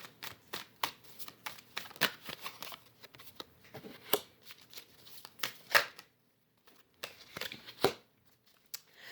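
Tarot cards from a Native American deck are shuffled by hand, a close series of soft riffling flutters and slaps in uneven bursts with short pauses between, without any voice.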